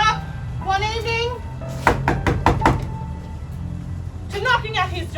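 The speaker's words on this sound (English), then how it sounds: "to knocking at his door" Knocking on a door, a quick series of about five sharp raps in the middle, set between stretches of someone talking over soft background tones.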